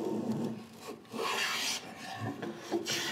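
Hand plane taking thin shavings off the front underside edge of a workbench drawer, a few dry rasping strokes in quick succession, close and clear.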